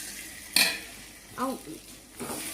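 A utensil stirs ginger garlic paste in a pan, giving a few scraping clinks against the metal with a faint sizzle underneath; a brief voice is heard between the strokes.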